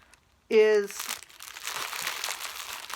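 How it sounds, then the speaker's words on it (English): Plastic packaging around a pack of plaid handkerchiefs crinkles and rustles up close. The sound runs steadily after a brief voiced sound at the start. "I didn't expect it to come packaged in plastic the way it is"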